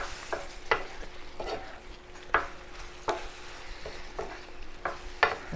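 Apples cooking in butter with thickening cornstarch in a skillet are stirred, producing a soft bubbling sizzle with periodic sharp scrapes of the utensil against the pan, close but moderate in level and without speech.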